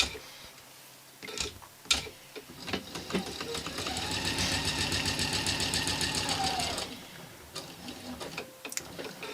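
A sewing machine stitches fabric strips together with a quarter-inch seam, running in a steady rapid burst of mechanical ticking for several seconds between quieter handling clicks.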